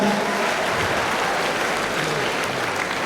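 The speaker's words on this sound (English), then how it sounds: "A round of applause once again for our guest lecturer." Sustained, dense audience applause for a guest lecturer at a matriculation lecture, a steady loud wash of many hands clapping throughout without a break.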